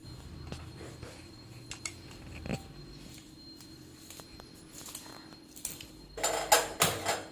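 A knife taps against a cutting board in scattered sharp chops through bitter gourd, then a quicker run of louder cuts near the end.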